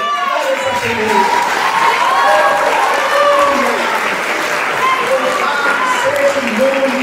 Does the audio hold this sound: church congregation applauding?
yes